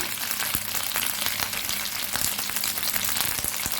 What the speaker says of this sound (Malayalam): നമുക്കെല്ലാം കൂടി ഇതൊന്ന് മൂപ്പിച്ചെടുക്കാം.